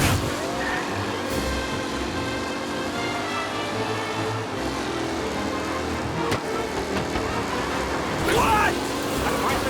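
Race cars in Mafia Definitive Edition roar around a track, a steady drone of several engines with tire squeal and a rising pass near the end, under commentary from a voice.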